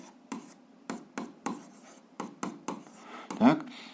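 Chalk or marker strokes on a board during a seventh-grade algebra lesson, a series of short, distinct taps and scratches in an irregular rhythm, close and moderately loud, ending in one stronger squeak.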